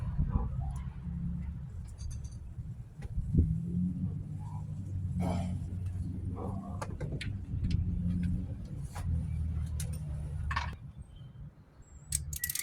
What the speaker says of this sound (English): So now we'll tighten up the top bolt and the bottom bolt.